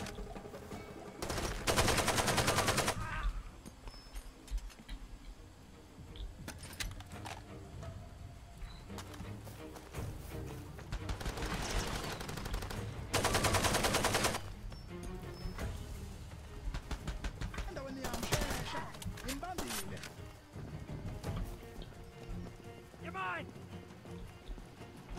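Enemy gunfire in Far Cry 2, with loud broadband bursts of rapid shots recurring every several seconds, some near and some farther off, between stretches of quieter game ambience and someone talking.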